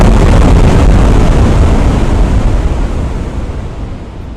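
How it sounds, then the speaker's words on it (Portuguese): Explosion sound effect in a narrated fantasy story, a loud roaring rumble that starts at full force and slowly fades over a few seconds, heard alone. "Uma explosão colossal sacudiu toda a fronteira abissal."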